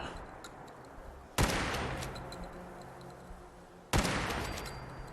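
Two heavy shotgun blasts in Fallout 4, spaced a few seconds apart, each a sharp loud crack with a rumbling decay, as pellets explode in water.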